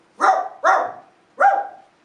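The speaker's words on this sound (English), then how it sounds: "Coco barks at the herd" A dog barks at a herd of livestock on a hillside, three sharp, loud barks close by, the first two in quick succession and the third after a short pause.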